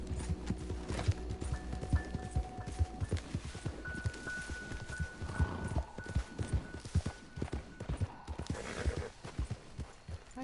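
Horse hooves clip-clopping in the Red Dead Redemption II video game, a steady rhythmic run of sharp hoofbeats close by, moderately quiet, with faint tonal game sounds and a brief whinny-like noise mixed in.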